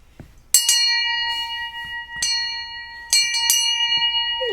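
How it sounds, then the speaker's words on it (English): A metal hand bell rung to open a show: several bright, ringing strikes spaced through the moment, each clear and close with a long sustaining tone that fades between hits. "Okay, let's ring the bell."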